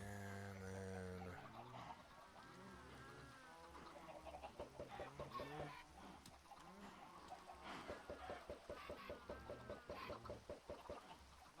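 Minecraft chickens clucking repeatedly in a game world, a busy run of short fowl calls, fairly loud and close, with background game sounds throughout.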